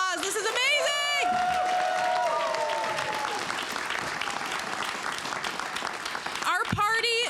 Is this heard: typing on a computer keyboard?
no